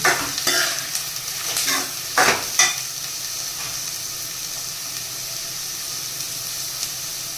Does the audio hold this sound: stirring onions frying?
yes